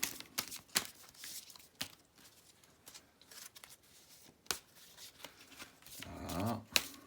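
Tarot cards are shuffled and drawn from a deck, giving a run of soft papery riffles and flicks, close and moderately loud, with brief pauses between bursts and no talking.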